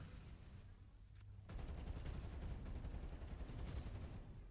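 Dense, rapid gunfire from enemies in Call of Duty: Cold War Zombies, a steady crackling volley that grows louder after a brief lull and keeps going, with no voices over it.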